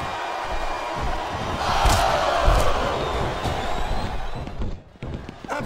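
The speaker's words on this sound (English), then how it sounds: "This capacity crowd is making their opinions known tonight" Arena crowd noise from WWE SmackDown vs Raw 2007 on PS2, a steady broadband roar of a capacity wrestling crowd that swells briefly with a couple of thuds, then dips near the end, with no speech over it.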